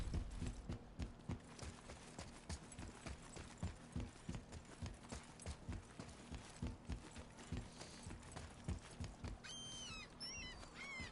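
Horse hooves clip-clop steadily in a PS4 video game, a regular near rhythm of hoof strikes throughout, with a few faint chirps near the end.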